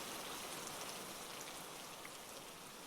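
Steady rain at a train station as passengers hurry off a train, a dense, even hiss of falling drops spreading across the whole clip with no voices.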